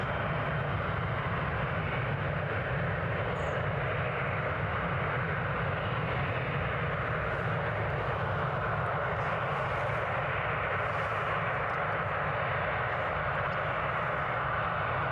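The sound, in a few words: aircraft passing at Newcastle International Airport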